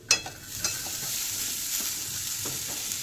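Potato and bitter gourd fry in a pan over a low flame, a steady soft sizzle with a few light stirring scrapes and clicks near the start, no voices.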